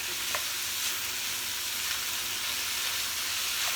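Garlic sautéing in a pan, a steady close hiss and crackle of hot oil with faint scattered pops, even and continuous throughout without talk.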